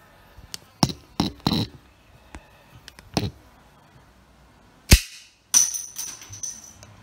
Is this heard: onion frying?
no